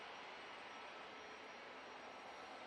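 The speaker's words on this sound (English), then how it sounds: "So, it's the TUI 787-9 Dreamliner. It's about to touch down." A TUI Boeing 787-9 Dreamliner comes in to land at Manchester Airport, a faint, steady, distant jet roar holding evenly throughout with no voices.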